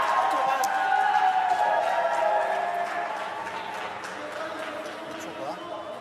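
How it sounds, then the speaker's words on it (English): Spectators cheering and applauding at a wheelchair curling mixed team semi-final between Korea and Canada, a loud crowd roar that fades and thins over a few seconds, with commentary voices over it. "I think that was the silver medalists in the crowd there from the mixed doubles, cheering their team on"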